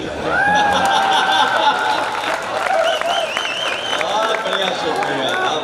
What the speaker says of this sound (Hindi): ये वही लोग तालियां बजा रहे हैं